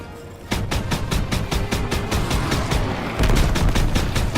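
Rapid gunfire in the Call of Duty WW2 game, a dense run of sharp automatic shots at a fast, even rhythm, growing louder and heavier partway through with booming impacts underneath.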